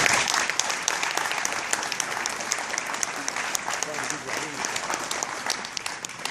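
Sustained applause from a crowd at a Walmart store grand reopening, steady dense clapping filling the whole stretch at moderate loudness, with some voices mixed underneath.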